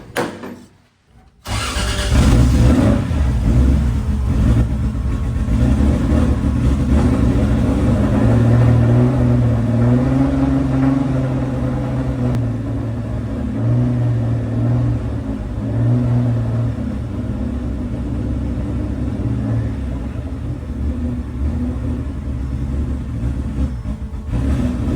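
A rebuilt Toyota Corolla engine cranks after a short quiet moment, then catches and runs loud and close, rising and falling with revs before settling into a steady, rough rumble.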